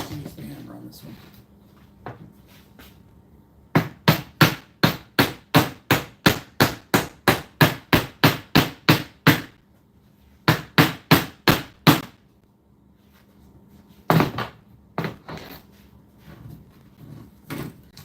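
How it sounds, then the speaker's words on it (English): A hammer drives nails into salvaged oak hardwood flooring: a long run of regular, sharp, close blows, a short pause, a few more strikes, then a scattered final burst, with brief talk in the background. "I think I'll just use the hammer on this one."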